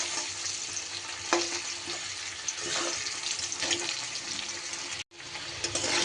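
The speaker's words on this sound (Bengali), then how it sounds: "সুন্দর করে আলুগুলো আমি উল্টে পাল্টে ভেজে নিব।" Potato pieces coated with salt and turmeric fry in hot oil, sizzling steadily up close while they are stirred and flipped, with a brief clatter and a short gap near the end.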